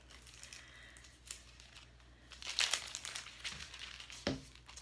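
A sheet of cellophane is handled near a piece of cardboard for a cake box window, giving soft, intermittent crinkling and rustling bursts that grow a little louder midway, with a light tap near the end.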